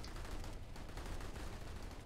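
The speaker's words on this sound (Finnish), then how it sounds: "Ammutaan taivaalle." Distant, faint rapid gunfire crackles continuously in Planetside 2, many weapons firing into the sky at once in a dense, rattling fusillade.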